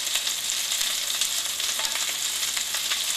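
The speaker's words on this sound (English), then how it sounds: "from this side also we need to fry it for about 2 minutes again." Chickpea patties (chola tikki) frying in a pan, a steady, dense hiss of sizzling oil with fine crackles, close up and constant, with no talking.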